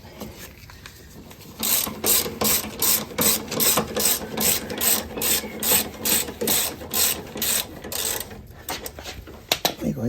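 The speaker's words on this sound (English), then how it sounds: "Next step is to loosen the upper shock bolt. That's a 3/4 inch socket." A ratchet with a 3/4 inch socket loosening the upper shock bolt on a Harley-Davidson Softail Sport Glide, clicking in a quick, even series of strokes up close, slowing and fading toward the end.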